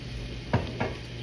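Spinach cooking in a pan makes a soft sizzle beneath two quick, close stirring scrapes of a utensil, with no one talking.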